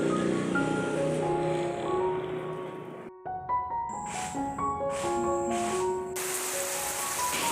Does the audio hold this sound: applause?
no